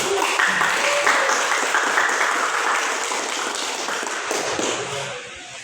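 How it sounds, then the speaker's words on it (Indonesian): A classroom of students claps together in dense, sustained applause that gradually fades after a few seconds, close and lively, with no talking. "Jadi kita beri aplaus untuk kita semua."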